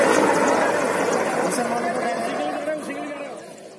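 An Air Force helicopter flying a flood rescue near Balaghat throbs loudly with a steady rotor drone that fades slightly toward the end, with voices talking over it.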